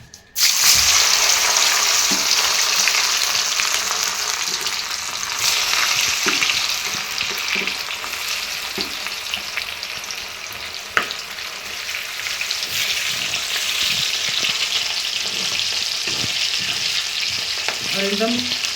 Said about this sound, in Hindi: अब यहाँ पे डालते हैं, तेल भी गर्म हो गया है। एक बार में तो फ्राई होगा नहीं है